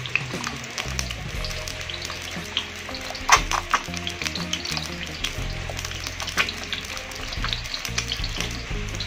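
Eggs for telur ceplok crackle and spatter in a pan of hot oil, scattered pops rising over a continuous frying hiss beneath steady music.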